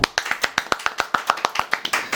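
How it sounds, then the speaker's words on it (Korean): A few people clap in unison to welcome an interview guest, a quick run of about fifteen sharp, evenly spaced claps close by, with no talking over them. "박수!"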